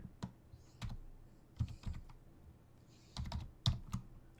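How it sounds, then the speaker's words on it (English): Typing on a computer keyboard in short irregular bursts of clicky keystrokes separated by pauses, close and fairly quiet. "Nothing like listening to Scott type."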